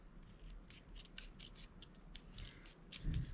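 Scissors cutting through planner paper, a quick series of soft, crisp snips and rustling rubs close up, quiet and fairly regular, ending with a slight thump.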